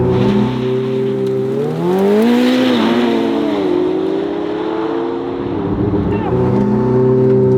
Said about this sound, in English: top-down motoring, top-down drag racing. Launching on go.